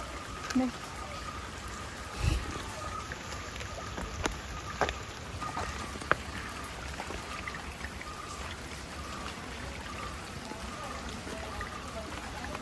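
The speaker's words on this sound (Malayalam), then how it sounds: "കുഞ്ഞ് വെള്ളച്ചാട്ടമൊക്കെ ഉണ്ട്" A small waterfall splashes in a steady, even rush of falling water, with a few sharp knocks now and then.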